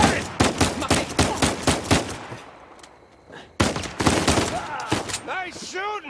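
Gunfire in the video game Uncharted 4: A Thief's End, with rapid loud bursts of shots in quick succession, a short lull, then another heavy volley, and a voice briefly audible near the end.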